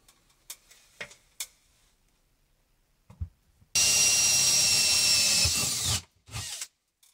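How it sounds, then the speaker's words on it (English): A power drill bores a 7/8 inch hole through the center of an electrical junction box, a loud continuous whine lasting about two seconds, preceded and followed by scattered clicks and thumps of handling. "all I'm going to do now is drill a 7/8 inch diameter hole right in the center"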